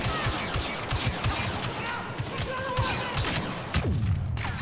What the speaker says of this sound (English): Oops, I'm shooting a droid.